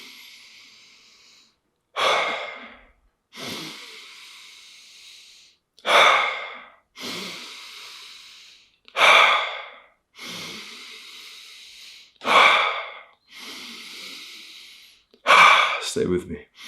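Deep, deliberate breathing before an ice bath, with loud sharp inhales alternating with longer exhales in a steady rhythm, about seven cycles, close and alone.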